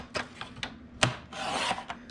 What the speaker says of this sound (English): I am going to take my green mat and I am going to trim that 1/4 inch smaller than this one